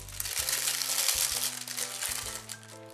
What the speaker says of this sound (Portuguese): Eu coloquei dentro de um saquinho de celofane, ó.